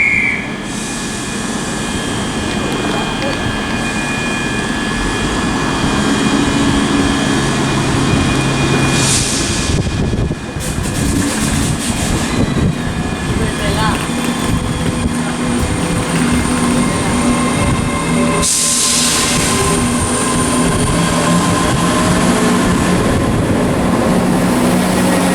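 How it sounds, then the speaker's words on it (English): A ScotRail class 170 diesel unit, 170425, pulls out of Haymarket on the 16:39 Edinburgh to Perth service with a loud, continuous engine drone and rail rumble that swells as it passes. "departing out now is going to be the 1639 ScotRail service to Perth from Edinburgh"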